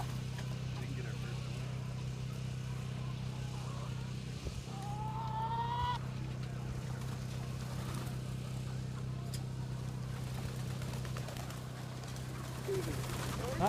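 Chickens and turkeys out on pasture give a few faint, scattered calls, with a short rising cry near the middle, over a constant low outdoor hum.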